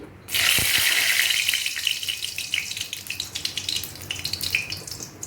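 A sudden burst of sizzling as chilies drop into hot oil in a wok, settling into a steady, crackling hiss close by.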